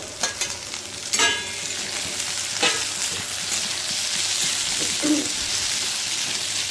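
Sliced onions and capsicum fry in a pan for paneer bhapa, a steady close sizzle broken by a few sharp clinks and scrapes of a spatula, with no voices.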